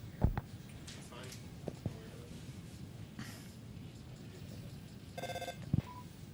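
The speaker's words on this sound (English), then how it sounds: "now we get this phone call, which is like the ending of the game" A brief electronic phone ring chimes once in the video game Undertale, a short bright trill standing out over quiet game background and light voices from players talking.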